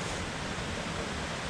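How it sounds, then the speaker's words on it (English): Heavy water rushing through a swollen creek beside a downhill bike trail in a park, a steady broadband roar with no voices over it. "there's a ton of water down here in the creek"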